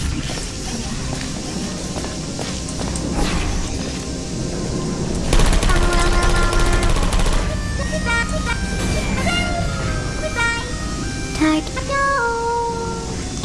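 Sentry turrets firing in the video game Portal 2, a busy stream of rapid gunfire bursts mixed with game effects and electronic tones, with players talking over it throughout.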